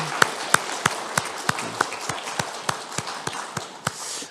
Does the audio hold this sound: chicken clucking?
no